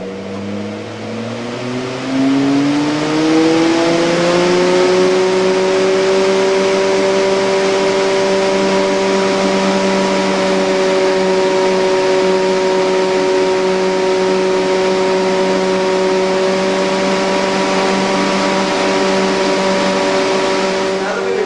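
A blower door fan mounted in a house doorway spins up to depressurize the home to 50 pascals, producing a loud, steady tonal hum whose pitch climbs over the first few seconds and then holds constant.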